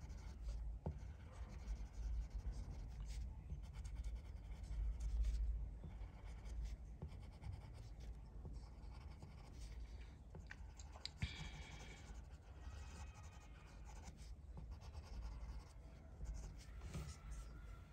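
Felt-free white gel pen marking paper while coloring a tin soldier figure, a soft continuous scratchy scribble with small clicks, close and quiet, no talking.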